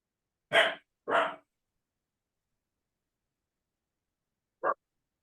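A dog barks twice in quick succession, then once more a few seconds later, with silence in between; fairly close and clear.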